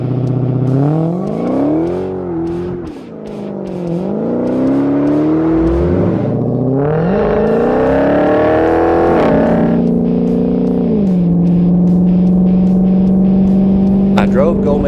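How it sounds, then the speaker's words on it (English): A Dodge Hellcat on a test drive, its engine note rising and falling through gear changes with whining revs and a low steady drone, loud and close throughout. "Now we're just going to go out for a test drive and see how much better the car feels."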